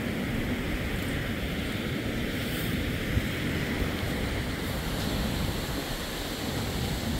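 Surf washing onto a cold New England beach at Plum Island, Massachusetts, forms a steady, close, continuous roar with some wind noise on the microphone and no voices.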